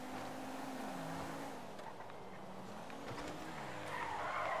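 Tyres skid and squeal during a car chase in GTA 5, with the engine roar rising and falling at a faint, steady level.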